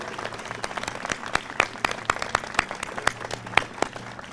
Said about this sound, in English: they deserve a warm round of support and applause